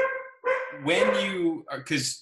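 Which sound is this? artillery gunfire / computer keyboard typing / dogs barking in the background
dogs barking in the background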